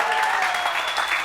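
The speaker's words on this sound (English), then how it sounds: "Round of applause for her, please." A conference audience applauds in a dense, continuous wash of clapping, loud and close, with no clear pauses in the brief burst.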